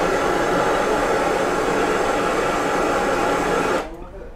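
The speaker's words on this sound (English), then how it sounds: "Just give this a quick blast to dry it off." A blast of air drying off a freshly customised Titleist wedge in a workshop: a loud, steady, broadband rushing hiss that runs unbroken for almost four seconds, then cuts off abruptly, leaving quiet room tone.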